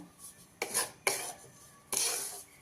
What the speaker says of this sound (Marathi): सर्व मिश्रण आव मिश्रण एकसारखं आपण परतून घेऊया